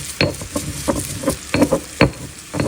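Thyme and sage are ground in a mortar and pestle, giving a series of irregular close scraping and knocking strokes, roughly one every half second, fairly loud with no voices.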